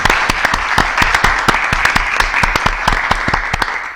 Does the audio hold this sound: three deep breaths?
no